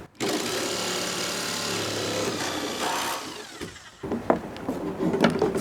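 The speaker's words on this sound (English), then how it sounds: "Try to get the sawzall under there without chipping this up anymore." Reciprocating saw cutting under a wood deck board, a loud, steady buzzing rasp for several seconds, then a pause and a few shorter bursts with knocks.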